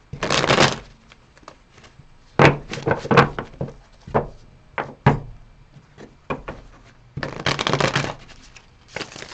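Cards are shuffled in quick riffling bursts with pauses between, interspersed with soft taps and thumps of the deck being handled.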